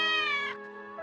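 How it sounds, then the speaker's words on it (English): A single cat meow, loud and close, with a drawn-out wavering tone that trails off after about half a second. "Cat."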